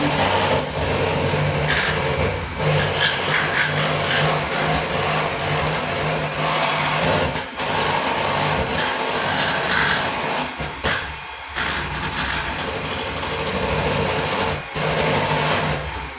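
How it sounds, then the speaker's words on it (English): An electric mixer whirs steadily and loudly as it beats homemade cake batter, with brief dips and changes in pitch as the sides of the bowl are scraped. "I'm just kind of letting the mixer stay where it is while I scrape down the sides because it's still technically mixing everything in."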